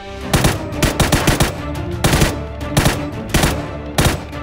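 Loud, close automatic gunfire in the video game PUBG comes in several rapid bursts separated by short pauses.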